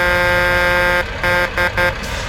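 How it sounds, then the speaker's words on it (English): A truck horn in the Euro Truck Simulator 2 video game gives one long, steady, loud blare, then three short honks in quick succession. The horn is close and dominant. "I was hoping I'd be able to get him go by honking"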